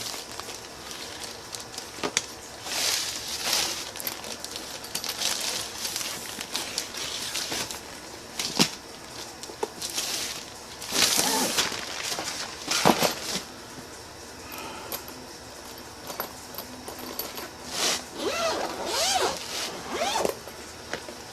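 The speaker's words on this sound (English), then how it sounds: "They come in some kind of a very large Ziploc bag" A very large plastic zip-seal bag holding Nicesolar portable solar panels is pulled open, giving a run of close crinkling plastic rustles and zipper-like rips with short pauses between handling noises, with no talking.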